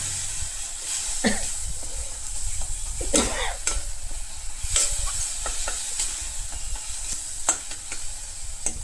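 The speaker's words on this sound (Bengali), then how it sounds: "দিয়ে দিলাম কাশ্মীরি লঙ্কা নুন আর হলুদ দিয়ে ভালো করে একটু কষি নেব" Onion, ginger and garlic paste with Kashmiri chilli, salt and turmeric sizzles steadily in a pan for a pumpkin fish curry, with a spoon stirring and scraping at irregular moments, close and continuous without talk.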